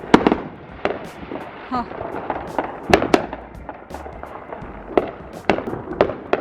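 Neighbours' Fourth of July fireworks go off in a backyard setting, with repeated sharp cracks and pops bursting irregularly at close to mid range, some louder than others, while a person briefly speaks.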